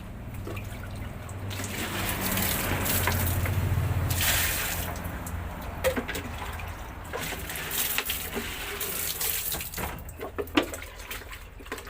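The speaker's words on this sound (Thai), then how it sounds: "เดี๋ยวผมขอล้างนี่ก่อนนะ ขอล้างแป๊บนึงนะครับ" Items, including a spoon and a net, being rinsed under a running tap, steady water flow with splashing and trickling, close by throughout.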